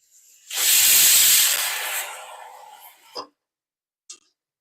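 A pressure cooker full of khichdi vents steam in one loud, sustained hiss that fades over a couple of seconds, followed by two short sputtering puffs, with no talking.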